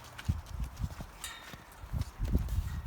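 Horses being introduced to a herd in a pasture, hooves clopping and shuffling close by on the ground with rustling movement, irregular steps, no talking.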